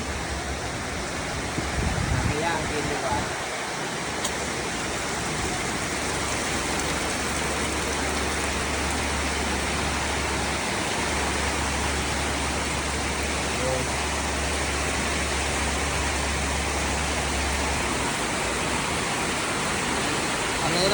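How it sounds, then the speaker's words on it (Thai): Heavy rain pours down around a rider on a Honda CT125 motorcycle on a Thai road, a constant dense hiss that fills the whole stretch, with a low engine rumble beneath it. "เจอฝนฝนเริ่มมาแล้วน่าจะเจอฝนตลอดทาง ดูสภาพฝนตกเป็นหมดแล้ว"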